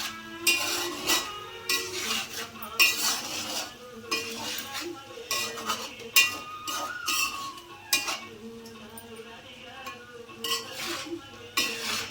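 A spoon stirs spicy bitter gourd curry as it fries in a pan on a stove at low heat, scraping and clinking against the metal in an irregular rhythm with a soft sizzle underneath, close up.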